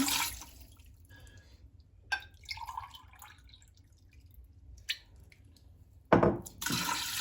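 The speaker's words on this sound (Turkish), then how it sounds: "Ben iki bardak su ekleyeceğim üstüne." Water splashes and trickles into a pressure cooker, with a louder rushing pour near the end, close by and fairly quiet overall.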